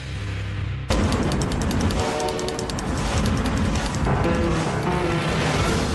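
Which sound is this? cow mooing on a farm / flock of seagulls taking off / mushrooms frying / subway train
subway train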